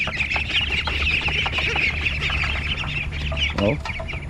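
Hungry farm chickens cluck and squawk noisily in the morning, a dense, busy chorus close by with one louder squawk near the end.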